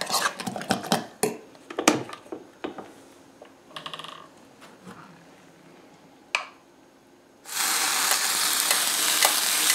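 Waffle batter hits a hot waffle iron after a series of sharp clicks and clatter, then a loud, steady sizzle and hiss takes over and holds to the end.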